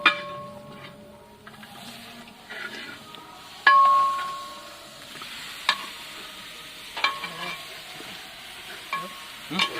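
Chicken and masala fry in hot oil in a pan, with soft continuous sizzling, repeated stirring scrapes and occasional sharp metallic clinks of the spoon against the pan.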